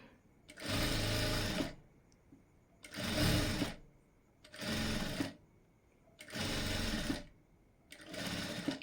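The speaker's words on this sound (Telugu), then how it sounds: "ఈ కుట్టు పైన థ్రెడ్ పైపింగ్ పెట్టి స్టిచ్ చేసుకోవాలి" A sewing machine stitches thread piping onto a designer blouse back neck in five separate loud, close bursts of whirring, with short quiet pauses between them.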